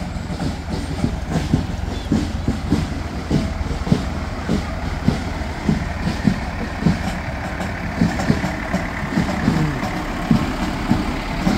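Engine 166 rolls past in the Katonah Fire Department's 150th anniversary parade, a heavy diesel rumble with a regular clanking, knocking rhythm as the truck moves along, steady and fairly close, no talk over it.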